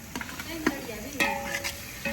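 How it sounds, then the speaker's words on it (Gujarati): Onions and garlic sauté in a pan, with faint scraping stirs and a soft sizzle coming in short, uneven strokes, close by and quiet, with no talking. "સૌથી પહેલા કાંદા અને લસણ નાખીને એને સાતળવાનું"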